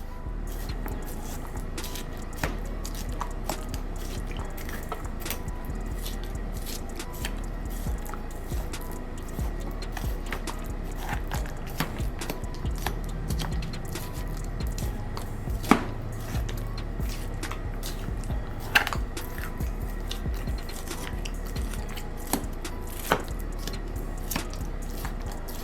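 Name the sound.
knife stabbing holes in a marinated pork shoulder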